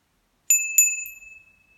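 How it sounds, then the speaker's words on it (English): A small bell is struck twice in quick succession, each bright, ringing tone sounding close and clear before fading away into silence. "Bell."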